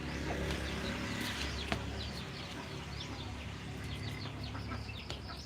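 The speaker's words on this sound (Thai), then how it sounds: "อันนี้เป็ดไทยนะคะเป็ดไทย ไป ลูกเป็ด ลูกเป็ด ลูกเป็ด ลูกเป็ด ลูกเป็ดปูน" Thai ducks and their ducklings chatter and peep in a busy outdoor flock, many short overlapping calls spread across the scene at a fairly low level, with no speech over them.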